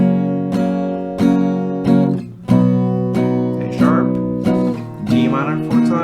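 Acoustic guitar chords strummed with steady single downstrokes, each strike ringing out before the next, changing chord every few strokes.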